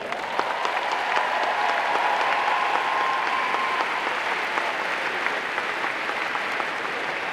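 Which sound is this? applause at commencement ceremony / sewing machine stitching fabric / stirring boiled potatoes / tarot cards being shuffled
applause at commencement ceremony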